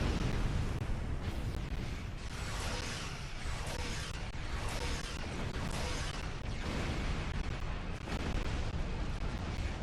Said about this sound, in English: I got him with the tricobalt torpedoes that time